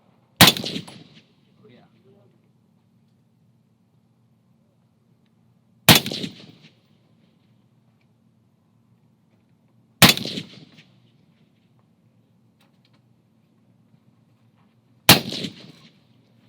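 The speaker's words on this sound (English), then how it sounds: "You'll get to see us shooting it though." Four separate loud gunshots from a gun being test-fired at a target, spaced several seconds apart with a low hum between them; a voice says something brief.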